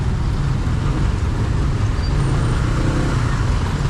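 Heavy, continuous road rumble as many trucks roll past close by, a dense low-pitched engine and tyre drone that stays loud and steady throughout.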